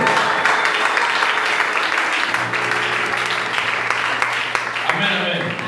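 A church congregation applauds, loud and continuous, with dense clapping filling the whole stretch while voices call out beneath it.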